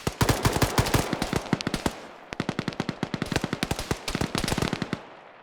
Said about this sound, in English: Oh, he's firing back though.